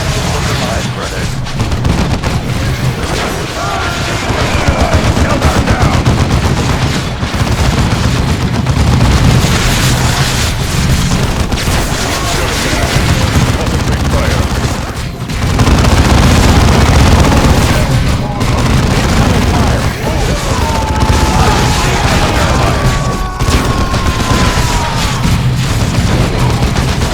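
Gunfire and explosions fill a Warhammer 40K Dawn of War 2 battle, loud continuous volleys, booms and crackling impacts layered densely throughout, with voices calling out over the din.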